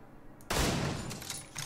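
A .50 caliber rifle in The Division 2 fires: a sudden loud report that hits hard, then rings out into a broad, sustained echoing tail, with no voices.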